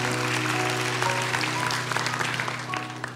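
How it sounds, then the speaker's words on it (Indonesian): A church congregation claps for Jesus in a worship service, steady continuous applause with a low sustained tone underneath throughout. "kasih tepuk tangan untuk Tuhan Yesus"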